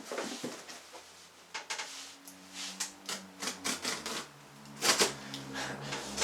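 Scraping, rubbing and crackling of a blade cutting open a plastic package holding Chucky dolls, a Stuck on Chuck and a 1993 Chucky, in a series of close, irregular bursts with a faint low hum behind.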